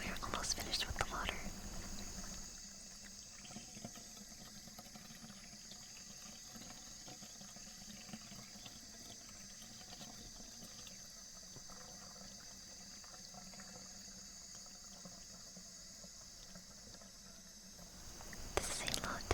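Soft water trickles and drips close by during an ASMR ear-cleaning roleplay, faint and steady, with quiet whispering over it.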